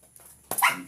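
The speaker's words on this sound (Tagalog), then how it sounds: "Napakakulit talaga ng aso na to" A restless dog gives one sharp, close bark after a moment of quiet room hum, short and loud, with no speech.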